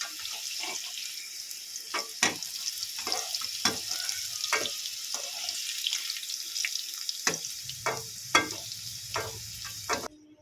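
Potatoes fry in oil for a rohu fish curry, a soft hiss running throughout while a utensil taps and scrapes in scattered strokes, a low bubbling joining briefly before it stops abruptly.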